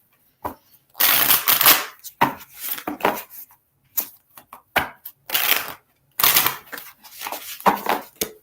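Playing cards are shuffled by hand in a series of crisp, riffling bursts, close and fairly loud, with short gaps between shuffles.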